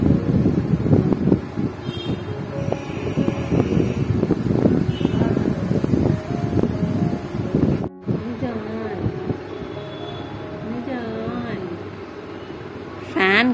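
Wind blowing outdoors, roaring steadily into the microphone with heavy buffeting, then easing after a brief cut as a voice talks over it.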